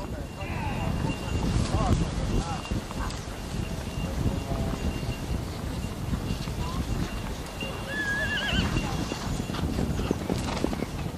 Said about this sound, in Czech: A s nimi jejich koně.